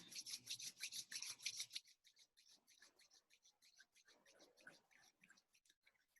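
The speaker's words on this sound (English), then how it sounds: "Then rubbing the hands together." Hands rubbed together briskly, a soft close swishing friction in quick strokes that starts louder and fades into quieter, scattered rubbing.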